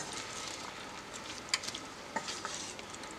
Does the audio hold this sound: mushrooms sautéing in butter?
yes